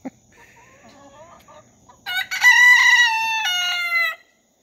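A rooster crows loudly and close by for a couple of seconds, after a few softer clucks and squawks from nearby Rhode Island Red chickens.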